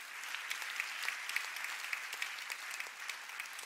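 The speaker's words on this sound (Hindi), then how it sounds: "आप लोग भी अच्छे ताली मारकर महिलाओं को धन्यवाद दीजिए।" An audience at a university convocation ceremony claps steadily to thank women, dense, sustained applause from many hands filling the hall.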